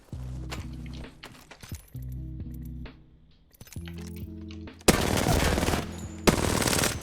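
Automatic weapon fire in Apex Legends, several rapid bursts of rattling shots separated by short gaps, with weapon-switch clicks and harsher, denser gunfire toward the end, loud and close with no talking.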